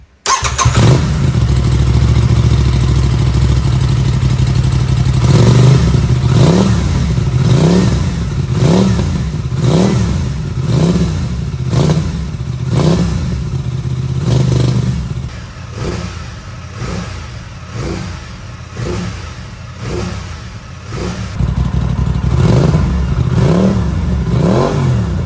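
An Aprilia RS660 motorcycle fitted with a Motobox exhaust revs repeatedly from idle in loud, close bursts, each sharp rise dropping back before the next, then settles toward a lower idle.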